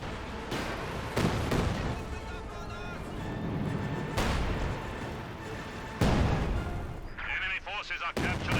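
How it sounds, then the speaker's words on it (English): Katyusha rocket barrage in the World War II strategy game Company of Heroes 2, heavy booming impacts striking repeatedly over several seconds amid steady battle noise, with game voice lines talking over the din. "Here comes Katusha barrage."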